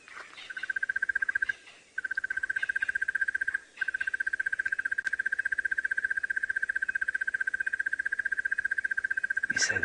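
A bird on a sunset safari drive gives a long, steady, high-pitched trill that runs almost unbroken and fairly loud, with a couple of brief pauses, against a quiet bush background.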